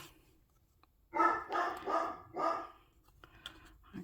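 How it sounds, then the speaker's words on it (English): A dog indoors barks several times in a row, loud and close, with a short pause before a couple of fainter yips, and no talking over it. "why the dog's decided to bark."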